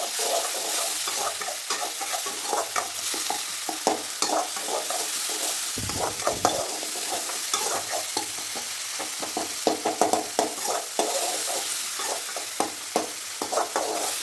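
A spoon scrapes and stirs a tomato mixture in a hot pan for instant veg biryani, with repeated sharp clatters over a steady frying sizzle, briefly pausing midway, close and without talk.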